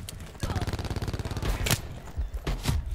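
A shotgun fires twice in the Call of Duty Black Ops 4 video game, firing mode Firebreak with the Purifier, giving two loud, sharp blasts about a second apart over a busy, rumbling game soundscape.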